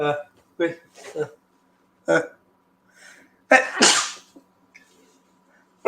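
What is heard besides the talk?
sneeze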